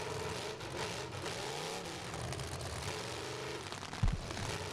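A car engine drones and revs steadily during a youth demolition derby, set against constant crowd and arena noise, with a brief low thump near the end.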